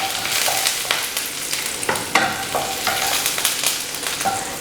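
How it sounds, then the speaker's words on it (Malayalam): Garlic sizzles steadily in hot oil in a pan while a spoon stirs it, with scraping clicks and sharp bursts over a continuous frying hiss; no voices. "ഇനി ഇതിനകത്തോട്ട് നമുക്ക് എടുത്ത് വെച്ചിരിക്കുന്ന വെളുത്തുള്ളി ഇട്ട് കൊടുക്കാം. നന്നായിട്ട് ഇളക്കി കൊടുക്കാം."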